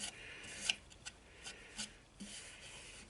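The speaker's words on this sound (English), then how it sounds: "all we're going to do now is sand it all down." Sandpaper rubbing over a wood-turned pot pourri bowl, heard as soft, faint rasping strokes that come in short bursts with brief gaps between them. No one speaks.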